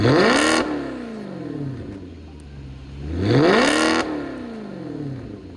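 A Maserati Quattroporte S exhaust revs hard twice on acceleration, each rising snarl swelling loudly and then dropping back to a lower drone between the pulls.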